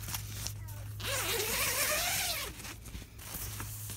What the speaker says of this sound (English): So there's just a zipper here.